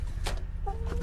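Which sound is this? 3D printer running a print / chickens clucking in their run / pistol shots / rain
chickens clucking in their run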